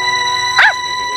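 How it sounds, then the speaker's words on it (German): A dog gives one short, sharp bark or yip over a steady background hum, heard alone without talk. "Das ist ein Hund, was?"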